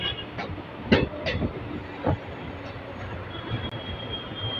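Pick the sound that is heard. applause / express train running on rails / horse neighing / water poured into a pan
express train running on rails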